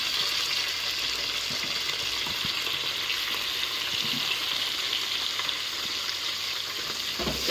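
Mint, coriander and green chillies sautéing in a pan of hot oil, a loud, dense and unbroken sizzle with occasional stirring knocks, heard up close without any talk.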